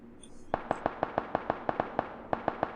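Gunshots in the battle royale video game PUBG, a sharp single-shot rhythm of about fifteen evenly spaced cracks at mid distance, with a short pause near the end and no talk.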